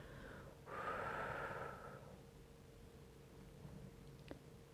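A person exhales slowly through the mouth during a dynamic relaxation exercise, a single soft breathy rush lasting about a second, faint and close with quiet room noise around it.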